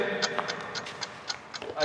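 Ticking timer of a glitter bomb, a steady run of rapid, evenly spaced ticks heard close, with a voice murmuring faintly underneath.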